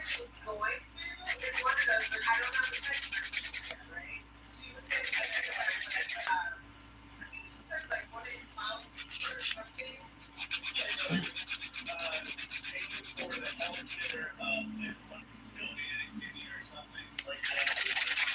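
A nail file's 100-grit side sands dip-powder nails in bursts of close, scratchy rubbing, a few seconds each, separated by brief pauses, with quiet movement sounds between strokes.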